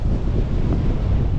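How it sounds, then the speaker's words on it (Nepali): Strong wind on a hilltop, a loud, steady rushing roar that buffets the microphone for the whole short stretch, with no one speaking. "अझै हावाले तान्दैछ उड्ने हो"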